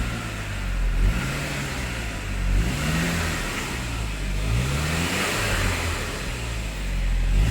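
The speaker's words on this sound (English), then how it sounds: "Some noise from the serpentine belt, but it's not an issue." Saab 9-5 engine running with serpentine belt noise and a temporarily fixed rusty exhaust flange, a steady close rumble with a whirring belt tone and gentle rises in revs, no talking.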